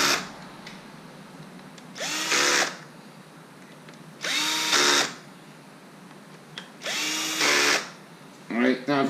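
A power drill snugs down the primary cover bolts on a Harley Electra Glide Ultra Classic, whirring in three loud, separate bursts of about half a second each, with a fourth starting at the end and quiet pauses between.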